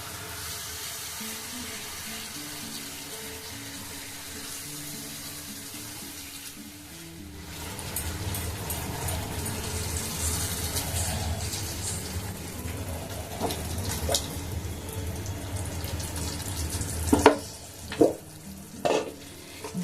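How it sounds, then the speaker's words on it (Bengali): Water goes into a pan of frying onions for a do pyaza curry, a hiss and steady splashing that shifts the sizzle partway through, followed by a few sharp clinks of a utensil. "এখানে দিয়ে দেবো একটু পরিমাণ মতো জল"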